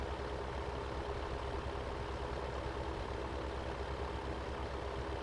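A 400-horsepower tractor in Farming Simulator 17 labours under an oversized implement, giving a steady, deep low-pitched engine drone that holds unbroken and fairly loud throughout, with no voices.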